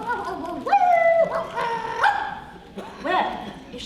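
A small dog named Willoughby yips and barks in short bursts under talk, in a whimsical film scene, with a few high whining calls between the yaps.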